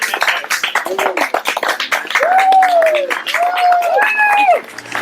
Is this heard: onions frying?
no